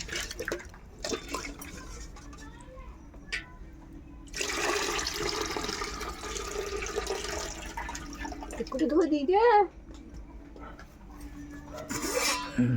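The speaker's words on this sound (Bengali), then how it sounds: "আলুগুলো আমি ধুয়ে নিচ্ছি, কারণ মা এদিকে চাল ধুচ্ছে" Potatoes being rinsed and rice washed in water in a poor household kitchen, with splashing and pouring in bursts, a longer gush of running water in the middle, and someone talking over parts of it.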